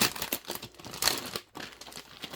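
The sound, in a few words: plastic bag crinkling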